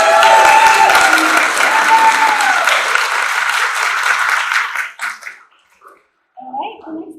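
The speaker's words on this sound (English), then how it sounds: "Yes, another round of applause." A staff meeting audience at a Dallas retirement village breaks into loud, close applause lasting around five seconds before it cuts off abruptly, leaving a few faint scattered sounds.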